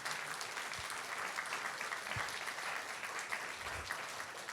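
Sustained applause from a large audience at a classical piano event, a dense steady wash of many hands clapping at constant loudness throughout.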